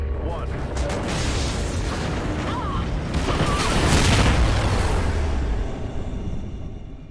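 Space station detonation in the Call of Duty Ghosts game: sustained loud rumbling blast and debris roar that swells around the middle and fades toward the end, layered with game effects.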